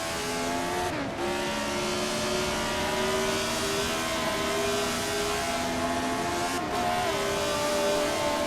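A race car at Montjuïc sliding around the last corner, engine droning steadily and loudly with pitch shifts at gear changes, under continuous high revving.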